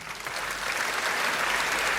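Audience applause at an award ceremony fills a hall as a dense, sustained patter of many hands that builds slightly and holds steady.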